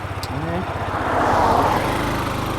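A 2021 Husqvarna Svartpilen 125 motorcycle engine runs close by with a buzzy, pulsing single-cylinder note that rises and grows louder toward the middle, then holds steady.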